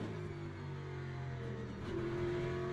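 A race car engine drones steadily in the racing video game Le Mans Ultimate, the pitch easing as the driver lifts off the gas for a turn, then climbing again as it revs back up.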